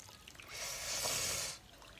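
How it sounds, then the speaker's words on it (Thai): Seasoned liquid pours in a steady hissing stream for about a second over a chili ginger noodle dish, then stops, close and moderately quiet with no talk. "เทน้ำที่เราปรุงลงเลย"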